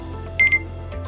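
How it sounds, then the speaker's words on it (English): A timer goes off with a short electronic beeping, two or three quick high tones clustered together, brief and moderately loud over low room hum. "This is going to go off because we got off on the timer"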